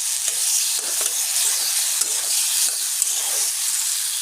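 Potatoes sauté in a pan with a bright, steady hiss of frying, broken by regular light stirring scrapes.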